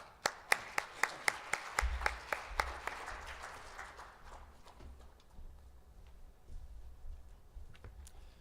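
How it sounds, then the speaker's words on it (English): A few sharp, evenly spaced claps from an audience at the Dream Together Seoul Forum 2017 ring out at first, then fade into a low, murmuring room rumble. "Please give Mr. Fletcher a warm round of applause."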